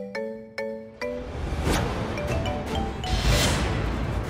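A phone rings with three quick chiming tones in succession, followed by a noisy, rustling clatter that continues after them.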